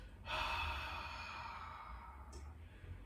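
A long, steady breath out during a lying-down core exercise for diastasis recti, one continuous airy exhale filling most of the moment at close range, followed by a brief softer breath near the end.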